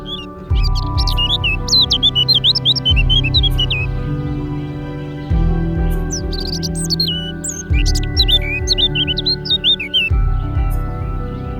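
A common redstart sings bright, fluting, varied phrases in short bursts over a steady low droning hum.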